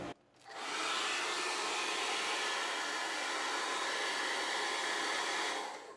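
Heat gun warming guitar finish near the bridge during a bridge swap, a loud steady blowing rush that starts after a brief pause and holds evenly to the end.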